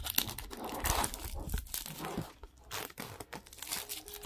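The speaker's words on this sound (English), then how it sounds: "It feels very nice unwrapping a plastic." Plastic packaging around a pair of Sony WF-1000XM3 noise-cancelling earbuds is pulled open, giving quiet, close crinkling and tearing rustles in irregular bursts.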